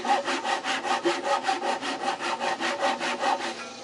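A hand saw with rip teeth cuts along the grain of wood for a sawhorse, making loud, close, rhythmic rasping strokes, about four per second, steady until the last moment.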